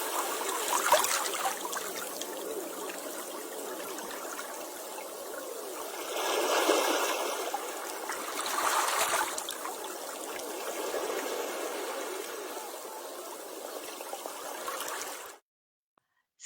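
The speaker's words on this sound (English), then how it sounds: "So I thought it'd be kind of fun to have a little water sound." Water trickles steadily as a small sound effect for a mermaid fairy garden, a continuous soft babbling stream that swells twice, then cuts off abruptly near the end.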